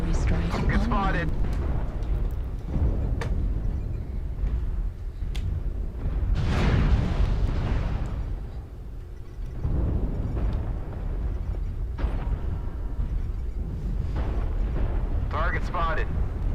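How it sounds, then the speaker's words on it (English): Artillery strike explosions in the mech combat game MechWarrior Online: several loud, rumbling blasts with a long, broad swell in the middle, over constant battle noise, with a player's voice talking throughout. "Artillery strike."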